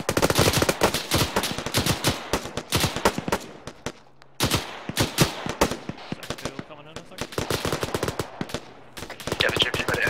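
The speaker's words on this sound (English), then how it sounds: "rapid fire" Rapid bursts of gunfire fill a British milsim battle in Arma 3 set in Finland, dense cracking volleys repeating fast and loud with brief lulls, overlapping shots near and far.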